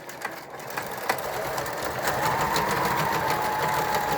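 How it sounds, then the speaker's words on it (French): Sewing machine stitching a zigzag seam on recycled denim, a steady rapid whirring with faint clicks that holds continuously and grows slightly louder partway through, with no talking. "on va mettre ça un petit point zigzag"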